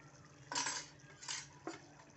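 Cooked bottle gourd pieces are stirred in a pot with a metal spoon, three quiet scraping clinks of metal against metal spread over a couple of seconds against a soft background hiss.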